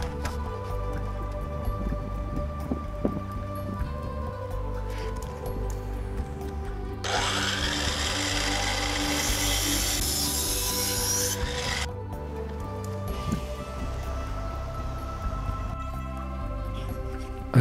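A saw rasps through a 2x6 wooden board in one sustained cut lasting several seconds, loud and close, set against a steady background hum.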